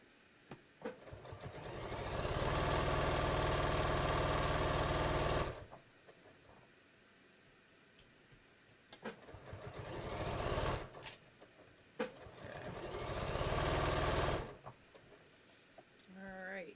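A home sewing machine stitches a seam on a pair of shorts, running in two long loud bursts of steady whirring with short pauses between, close to the microphone.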